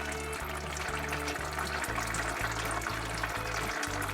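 Transmission fluid from a Jeep Cherokee pours and drips steadily into a drain pan in a garage, a close, continuous liquid splatter with a faint low hum beneath, no talking.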